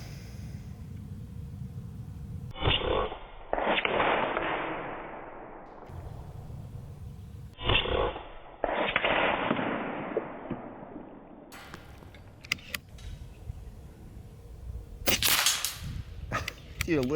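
An Umarex Zelos air rifle firing FX 25.4 grain pellets gives two sharp, loud shots with ringing tails several seconds apart, followed later by a few quicker cracks and clatter.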